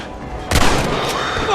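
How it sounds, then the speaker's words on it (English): A sudden loud gunshot blast in Red Dead Redemption, followed by a rolling echo and continued rumbling ambience, with a brief voice in the mix. "Jesus, they're shooting at us!"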